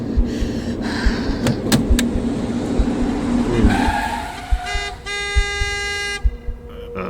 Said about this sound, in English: The car skidded to a stop, barely inches away from me